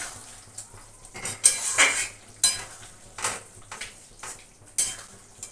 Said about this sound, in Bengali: মশলার সাথে একটু কষিয়ে নিলাম কোপ্তাগুলো।